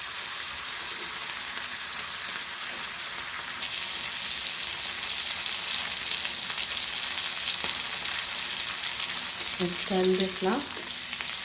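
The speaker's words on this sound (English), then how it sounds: "then you can fry this plain" Stuffed silver pomfret fish frying in a pan, a steady broadband sizzle and crackle running throughout, with a brief spoken remark near the end.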